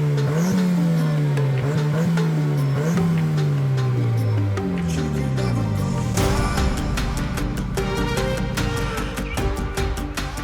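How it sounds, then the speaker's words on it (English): Engine of a 1998 Honda Civic revving loudly, with repeated rising and falling revs in the first half and then sustained high, busy engine roar with clattering, close and continuous. "Rev it!"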